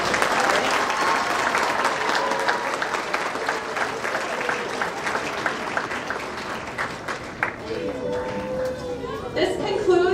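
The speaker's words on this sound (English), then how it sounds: "Please give them a round of applause." A crowd at a nursing pinning ceremony applauds steadily and fairly loudly for about ten seconds, with chatter and voices mixing in toward the end.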